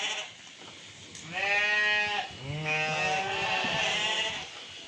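Several Tatalilar breed sheep bleat in a farm pen, overlapping calls rising loud and close over about three seconds, with steady rural background noise and no speech.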